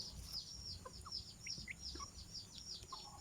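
Game fowl kept for fighting cluck and chirp in a farm yard, a faint scatter of short calls repeating over a quiet outdoor background.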